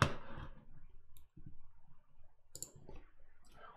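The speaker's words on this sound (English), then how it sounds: "Click the first link." A computer mouse clicks on a link, giving a sharp click near the start followed by quieter faint taps over a low background hum, with no talking.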